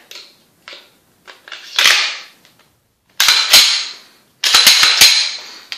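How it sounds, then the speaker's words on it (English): Glock 17 pistol slide being put back onto its frame: a few light clicks, then sharp metallic rattling and snapping in two short bursts, up close with no talk. "Put this back together for you here. And slide this back onto the gun here."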